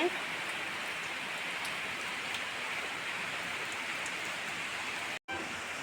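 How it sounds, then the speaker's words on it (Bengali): Heavy rain pouring down in a dense, steady roar, drops drumming on surfaces close by, with a brief dropout near the end. "বৃষ্টি কিন্তু অবস্থা একদমই প্রচণ্ড বৃষ্টি হচ্ছে"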